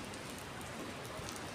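Steady rain falling on a surface, a dense even patter of drops that runs unbroken and fairly faint throughout, with no voices.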